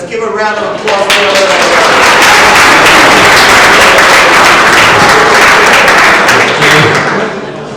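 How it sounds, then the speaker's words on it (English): An audience at a track and field hall of fame induction banquet breaks into loud, sustained applause that swells within the first second, holds steady, then thins out near the end. "Let's give a round of applause for"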